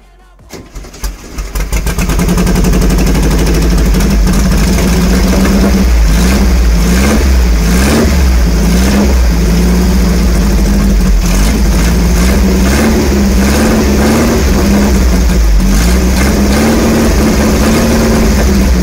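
A Volkswagen Beetle's air-cooled engine, part of a restoration, cranks over briefly and then catches, settling into a loud, close, steady run with rhythmic swells of revving throughout.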